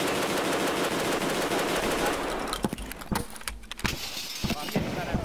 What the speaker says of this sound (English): I'm getting shot at from the back.